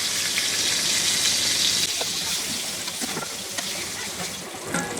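Pointed gourd fries in hot oil over high heat, giving a loud, steady sizzle that fills the clip with constant crackling hiss and small pops.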